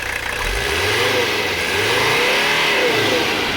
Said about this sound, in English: the idle's a lot rougher. It's a lot lower, clacks a lot more.